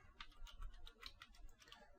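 Quiet, close clicking of keys being typed on a computer keyboard, a quick irregular run of light taps with no talking.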